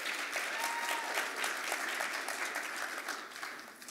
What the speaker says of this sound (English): round of applause for this group